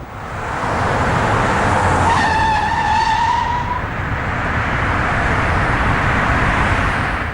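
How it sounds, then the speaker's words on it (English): A loud squeal of tires skidding under braking cuts in over a roaring car engine, rising and sliding for about two seconds before the engine noise carries on. "whenever you hear the sound of a vehicle screeching like this on the road"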